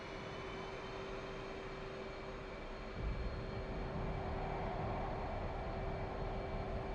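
A-10C attack jet's engines spooling to full throttle in a flight simulator, a steady broadband roar with a constant whine that thickens and grows louder about three seconds in, with no talking.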